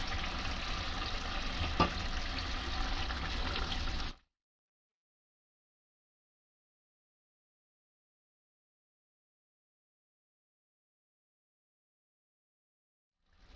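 Garlic and tomato paste frying in a pan for spicy shakshuka with peppers, a close steady sizzle with faint stirring for about four seconds, then long silence and a brief return of sizzling at the very end.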